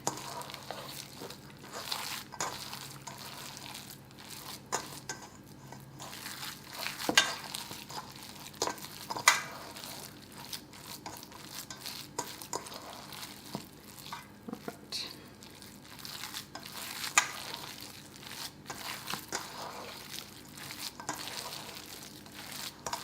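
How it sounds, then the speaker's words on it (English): Ground meat mixture for German Königsberger Klopse meatballs being kneaded and squished by hand in a bowl, soft irregular wet squelches and rubbing sounds, close and fairly quiet. "So I can start to mix it with my hands."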